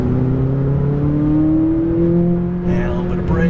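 A 2017 McLaren 570S accelerates through a turn at Las Vegas Speedway, its engine droning loud and close from inside the car as revs rise steadily, with a slight dip and shift near the end.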